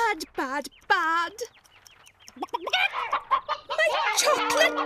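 Cartoon chickens cluck and squawk in a children's animation, with pitched voices and busy background music. The short clucks come in quick bursts.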